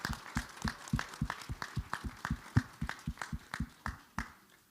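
Applause for grandfather Bénissé Gelin, heard as a steady, evenly spaced run of sharp hand claps, fairly faint and close, keeping a brisk regular rhythm before stopping.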